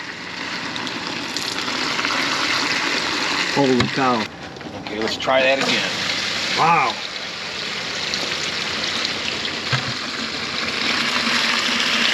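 Old water mixed with tar blobs drains from the sediment bowl of a Case 450B bulldozer whose fill cap was left off for years, a continuous gushing splash with excited voices talking over it.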